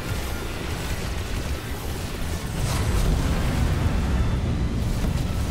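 Heavy cannon fire in the video game Star Wars: The Old Republic forms a continuous booming, rumbling barrage. It grows louder and denser partway through and carries no distinct pauses.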